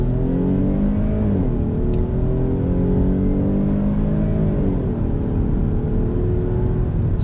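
A 2019 Jeep Grand Cherokee Limited X accelerating steadily from a stop, a smooth rising engine hum with a couple of gear shifts, heard from inside the cabin.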